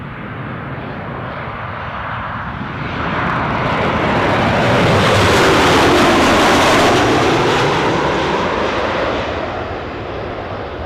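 A Jet2 airliner comes in to land at Newcastle Airport, its engine roar swelling into a loud, broad rumble that peaks mid-pass and then eases slightly as it moves past, with no talking.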